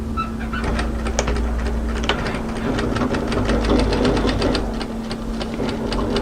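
A sewing machine stitches a quarter-inch seam on a hooded jacket with a funnel collar, running in a steady rapid rhythm with a constant hum and small clicks, close by and alone.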